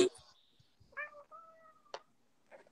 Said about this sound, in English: I also have a cat, but that's not my cat